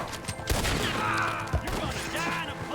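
Gunfire in Red Dead Redemption 2 rings out as a few sharp shots among a busy, noisy game soundscape, with a low background din between the cracks.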